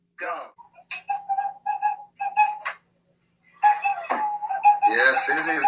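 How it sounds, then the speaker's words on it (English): Slide whistle being played as a new instrument, with short wavering whistled notes sliding in pitch, a pause, then a busier run of tones with voices briefly mixed in at the end. "become quite the slide whistle player"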